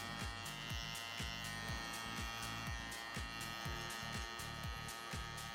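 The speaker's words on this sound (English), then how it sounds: "I just remove with my trimmers, so I can come with my electric shaver" An electric shaver trims hair during a combover fade haircut, giving a steady close buzz with a rapid pulsing rhythm as the blade passes over the head. The buzz runs continuously with no talking.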